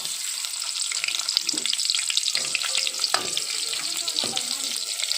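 Tempering seeds and chopped onions crackle and sizzle steadily in well-heated oil, a dense close frying hiss with occasional stirring clinks, no talking.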